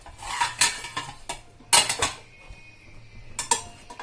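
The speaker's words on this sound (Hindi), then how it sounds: "अभी मैं इसको कढ़ी को ढक देती हूँ" A lid goes onto a pot of Sindhi kadhi curry with several loud metallic clanks and rattles of cookware, in close bursts separated by short quiet gaps.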